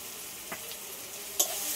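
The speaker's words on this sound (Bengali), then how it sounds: "আলুটা একটু লাল লাল করে ভেজে নেব।" Potatoes frying in oil with salt and turmeric: a faint steady sizzle with a soft stir at the middle and a sharper scrape near the end.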